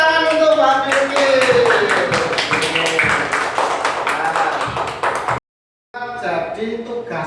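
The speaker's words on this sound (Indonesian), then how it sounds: "Ya, tepuk tangan untuk Mbak Vicky." Children in a second-grade classroom clap together in quick rhythmic bursts while a voice talks over them, then a brief silence, then more talking with light clapping.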